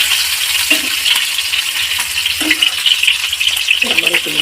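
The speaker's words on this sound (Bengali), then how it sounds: "তো বন্ধুরা মাছগুলো ভাজা হয়ে গেছে" Pabda fish fried in oil in a pan: a loud, continuous crackling sizzle, with a few soft clinks and bumps from handling the pan.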